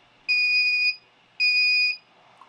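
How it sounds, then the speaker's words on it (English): A G fence 600z controller gives two identical high electronic beeps, each about half a second long, sounding clearly one after the other against near silence, signalling calibration mode. "You hear the two beeps that indicate it's gone into calibration mode"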